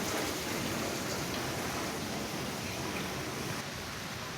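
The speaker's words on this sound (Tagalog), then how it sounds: "Umuulan rin po rito, maambon dito sa Alabang Town Center." Steady light drizzle at the Alabang Town Center shopping centre, heard as a constant even hiss of rain with no distinct drops standing out and no talk.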